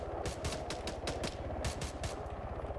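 Incoming gunfire in the military game ARMA 3: rapid bursts of automatic rifle shots crackle in quick, uneven volleys for a few seconds, fairly distant and steady in level, with no speech.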